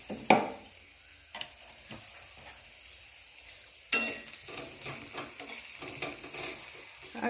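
Eggplant slices fry in hot oil in a karahi pan, with a steady sizzle running throughout, several sharp stirring clatters, and a louder burst of spattering midway.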